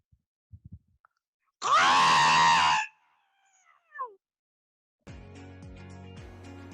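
A voice lets out a long, harsh screeching cry imitating a pterodactyl, followed by a shorter squeak and then a burst of background music.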